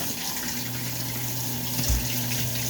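Water runs from a tap into a sink indoors as a continuous, fairly quiet hiss and splash, with a low hum beneath it and a brief thump near the end, and no voices.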